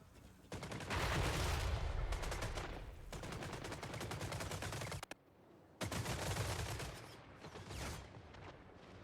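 Massed gunpowder troops firing volleys in the fantasy strategy game Total War: Warhammer 3: dense crackling musket and cannon fire rolls on in long loud bursts, breaks off in a brief silence, then resumes just as heavy.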